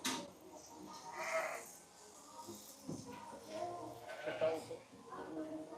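Sheep and small lambs bleat in a pen at shearing time, several wavering calls rising over a busy barn background while people talk close by.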